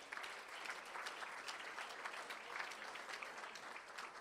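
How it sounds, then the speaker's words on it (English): Audience at a board meeting applauding, a steady round of many hands clapping with distinct sharp claps standing out, moderately faint and continuous throughout, no speech over it. "Let's give them one more round of applause."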